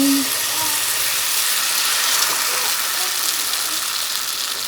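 A steady, airy hiss runs throughout as roti cooks on a hot pan, continuous and fairly loud with no voices.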